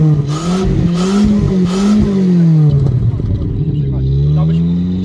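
A Ford Mustang engine revs up and down repeatedly, loud and close, its pitch rising and falling, while people talk over it.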